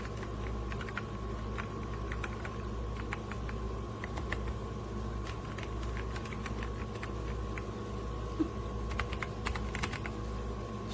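Steady keystrokes on a DIERYA T68SE compact 60% mechanical keyboard with brown switches, a continuous soft clatter of close taps with an occasional louder key over a constant low hum in the room.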